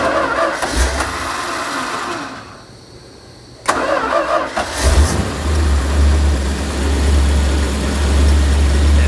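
A 1965 Dodge A100 engine, freshly fitted with new points and plugs, cranks briefly, pauses, then catches and settles into a steady, loud, close idle with a deep rumble.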